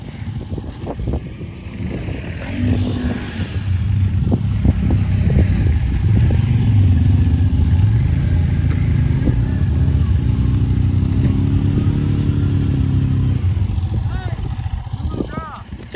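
A 450 dirt bike ploughs through deep mud after heavy rain, its engine droning loud and close for most of the stretch with rising and falling revs, while people talk and shout nearby.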